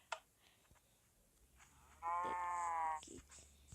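A Minecraft cow gives one clear, low moo lasting about a second, loud against a quiet game background with faint soft clicks.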